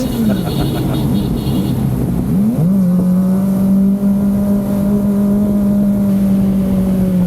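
A 2023 Kawasaki Ninja ZX-25R with a 250cc inline-four engine revs hard and close, first rising and falling in quick swoops, then holding a loud, steady high-pitched scream.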